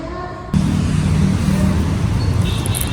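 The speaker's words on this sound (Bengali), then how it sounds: "অটোটা আসছে" An auto-rickshaw approaching on a windy road, arriving as a loud, steady engine and road rumble that starts abruptly and holds close for the rest, with light traffic noise around it.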